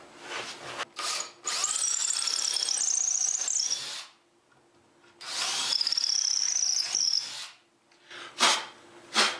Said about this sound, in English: I'll drill down from the top again in order to get the bolt holes through the spacer.